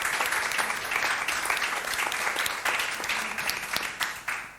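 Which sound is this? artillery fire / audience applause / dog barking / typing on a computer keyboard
audience applause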